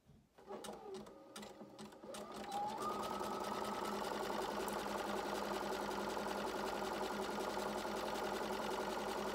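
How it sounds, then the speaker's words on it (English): A sewing machine runs a zigzag stitch down a 100% cotton fabric gaiter, starting with a few light clicks before settling into a steady, continuous mechanical whir heard up close. "I'm just going to run a zigzag stitch down it."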